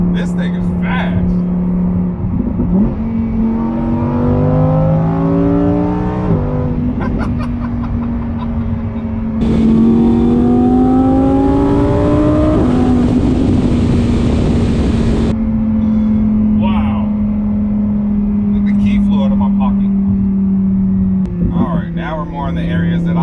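A Lamborghini Huracan EVO in sport mode accelerating hard, its engine rising repeatedly through gears with loud climbing revs and gear shifts, heard close from inside the car under steady road noise.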